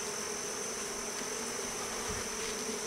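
Honeybees buzz steadily at an open hive frame, a dense continuous drone from many insects close by, with no talking.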